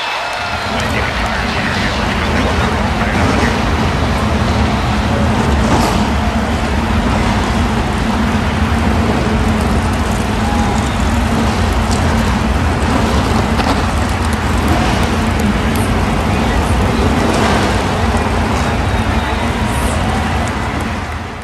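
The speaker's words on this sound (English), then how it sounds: "Drivers, start your engines!" NASCAR stock car engines roar together at the Daytona Road Course, a dense, steady mechanical drone with crowd noise throughout the clip while a voice talks over it.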